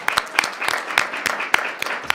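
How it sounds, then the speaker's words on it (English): An audience at a board of education work session gives a brief round of applause, a short burst of individual claps standing out against a scattered crowd. "Let's give them another round of applause."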